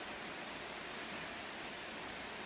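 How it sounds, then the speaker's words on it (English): Heavy rain falling outside, a dense, unbroken wash of hiss at low level with no other sounds. "It's raining so much I can't hear my kettle when it's boiling"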